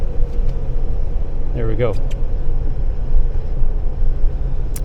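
A 2009 Ford Ranger with a manual transmission drives steadily as it shifts into fourth gear, a constant low engine and road rumble running throughout, while someone speaks briefly over it.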